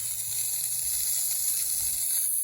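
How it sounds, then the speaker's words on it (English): Water spraying steadily from a J-rod wand while rinsing house windows during a house wash, a constant close bright hiss that holds without a break. "I'm just rinsing these windows"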